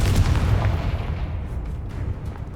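Confringo spell blast in the Hogwarts Legacy video game, a loud, rumbling explosive burst with heavy low-end boom that sustains and slowly fades over a couple of seconds, no voices over it.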